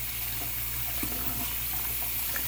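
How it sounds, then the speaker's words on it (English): Tap water runs steadily into a kitchen sink while dishes are washed, a continuous close hiss of flowing water with faint clinks, alone and without talk. "I'm going to wash up these dishes here."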